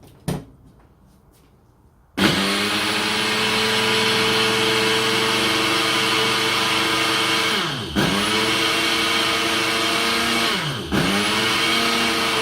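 A blender grinds ingredients into flour for diet waffles. A faint knock comes first, then a loud, steady motor whir runs for about ten seconds, its pitch sagging and recovering twice near the end.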